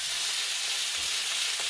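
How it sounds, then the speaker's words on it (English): Lamb chops fry in grease in a cast iron pan, giving off a steady, close, bright sizzling hiss with faint crackles throughout. "Hear that sizzle."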